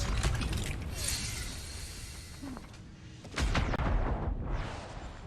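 Cover fire from a gun in Guardians of the Galaxy on PC: sustained rapid, mechanical rattling shots that continue throughout and grow louder and denser in the second half.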